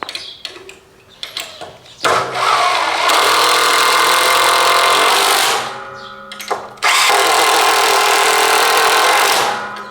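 A Lidl Parkside impact driver drives a screw in two long, loud, steady bursts separated by a brief pause, close to the listener.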